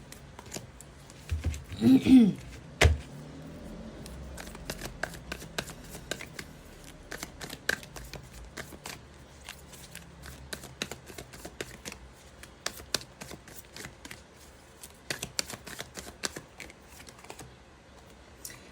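Tarot card deck shuffled in hand, a long run of soft, rapid riffling clicks and flicks close by, with a brief voice near the start.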